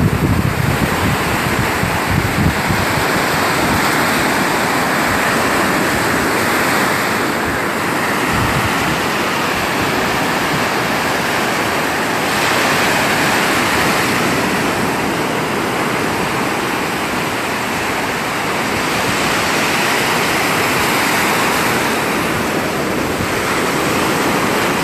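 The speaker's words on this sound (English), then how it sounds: "This is some really big surf for us." Big ocean surf breaks on Florida's west coast on a cloudy day, a steady loud roar of crashing waves with wind noise, continuous and close throughout, with no voices.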